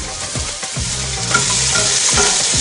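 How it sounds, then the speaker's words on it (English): Curry leaves, onions and garlic fry in smoking-hot oil, a loud steady sizzle with stirring scrapes running throughout, no talking. "Traditionally, you start with your curry leaves, and then we're going to put our onions and garlic in"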